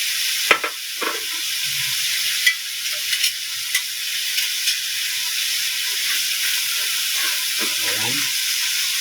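Marinated pork loin steak sizzles in a hot pan with a steady broad hiss, a few soft clinks and taps of a utensil rising above the frying.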